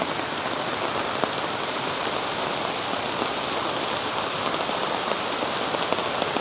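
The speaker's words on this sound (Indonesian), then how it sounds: "jadi seperti ini suasana siang hari ini sambil hujan di Lembah Topidi" Steady rain drums on a camping tent in Lembah Topidi valley during the daytime, a dense, even hiss of drops at constant volume with no talking and occasional slightly louder patters.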